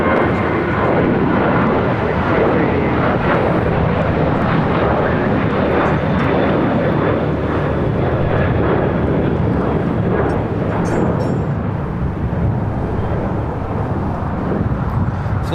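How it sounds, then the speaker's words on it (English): A United Boeing 757 in Star Alliance livery lands on the north side at LAX, its loud, close engine roar filling the stretch with a dense, continuous rumble and faint whine, with no voices. "Have a United in the Star Alliance livery, 757 landing on the north side"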